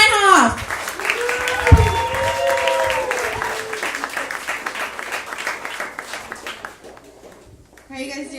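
A comedy club audience claps and cheers for a stand-up comedian, a short burst of applause that fades as her voice takes over, speaking over the tapering clapping.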